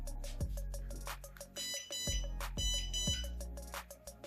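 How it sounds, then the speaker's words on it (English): A dog training shock collar sounds its beep function: a series of short, sharp electronic beeps in a steady repeating rhythm, close and loud, with no talking. "let's try the beep function"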